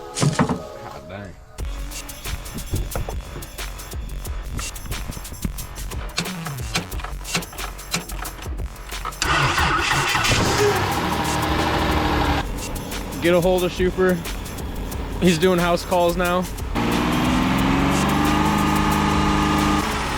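Yamaha Raptor 700 ATV, repaired after a rollover, starts up and idles with a loud revving engine and rattling mechanical noise, while people talk over it.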